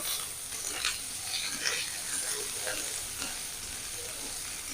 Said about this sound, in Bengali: জিরে হালকা নেড়ে হালকা ভাজা দিয়ে নিয়েছি অল্প নেড়ে ছেড়ে এবার দিয়ে দেবো টমেটো